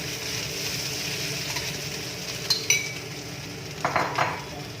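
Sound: ground mackerel added to a wok and stirred

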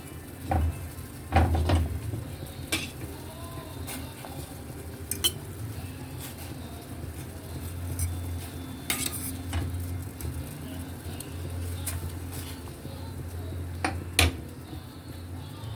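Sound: grilled milkfish added to pot with onion and chili

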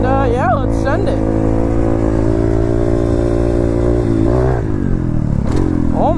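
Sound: dirt bike engine revving on trails

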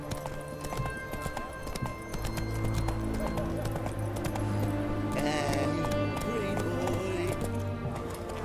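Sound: horse hooves galloping in video game The Witcher 3

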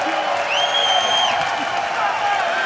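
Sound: London esports crowd cheering

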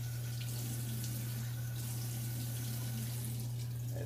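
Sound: hot water running from tap for shave rinse

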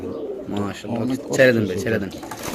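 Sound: pigeons cooing

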